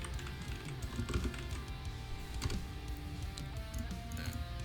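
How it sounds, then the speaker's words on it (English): Continuous typing on a computer keyboard in a home studio, with a busy run of key clicks that sits steady and close over a background hum, with no talking. "If I can type."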